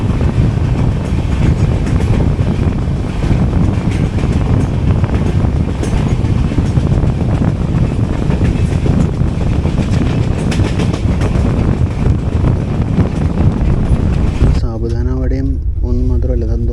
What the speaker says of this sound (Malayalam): മണിക്കൂറിന് മേലെ വൈകി ഓടുന്ന മംഗള ലക്ഷദ്വീപ് എക്സ്പ്രസ് ആണത്